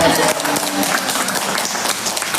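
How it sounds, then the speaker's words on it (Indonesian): A small group of people at a gathering applauding, with fairly close, dense clapping for a couple of seconds and voices mixed in. "kita tepuk tangan"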